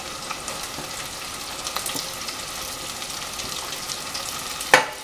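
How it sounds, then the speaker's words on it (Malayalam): Sliced onions added to beef sautéing in a clay pot for Kerala-style beef varattiyathu: an even, close frying sizzle with light scraping and stirring, and a brief sharper clatter near the end. "ഇനി സവാള ഇട്ട് കൊടുക്കാം."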